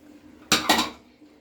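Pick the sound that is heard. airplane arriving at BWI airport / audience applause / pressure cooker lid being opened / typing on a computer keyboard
pressure cooker lid being opened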